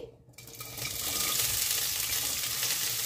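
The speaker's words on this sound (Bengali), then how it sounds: "কুমড়ো খোসা ছাড়িয়ে ছোট সাইজ করে পিস করে রেখেছি, এবার ভাজার জন্য দিয়ে দিচ্ছি কড়াইতে।" Pumpkin pieces hit hot mustard oil in a wok and burst into a loud, steady sizzle that starts after a brief quiet moment and continues without a break.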